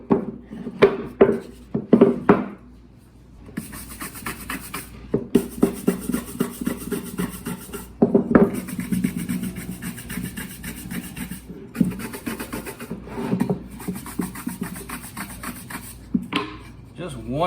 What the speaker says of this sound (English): Now I'm cutting this one piece into 3 3/4 inch pieces.